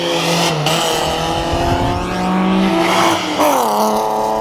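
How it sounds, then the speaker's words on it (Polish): A Toyota Yaris GR on a race track, its engine loud and close, revving and shifting pitch as it accelerates past with a steady roar throughout. "Tu jedzie Yaris GR, z którym zresztą przyjechałem."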